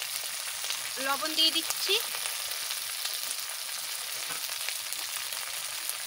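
Masala spices sizzle and fry in a pan for a Pangasius fish curry, a soft, continuous crackle, with someone speaking briefly over it early on.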